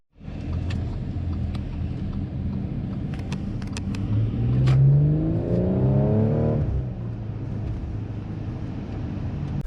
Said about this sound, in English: you can definitely hear the exhaust and the engine roar a bit more